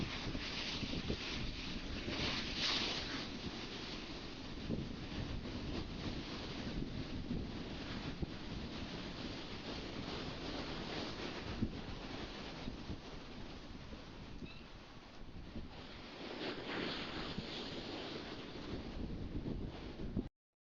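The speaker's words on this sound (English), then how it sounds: "Yes, that's wind you're hearing." Wind blowing steadily outdoors, a continuous broad rushing roar buffeting the microphone, with gusts swelling near the start and again toward the end.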